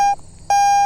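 A Garrett AT Pro metal detector sounds its tone for a quarter coin: a loud, pure electronic beep that cuts off, a short silence, then the same steady tone again, close and clear with no voices.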